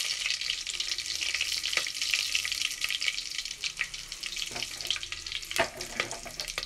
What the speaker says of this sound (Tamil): எல்லாமே நல்லா ஃப்ரை ஆயிடுச்சுங்க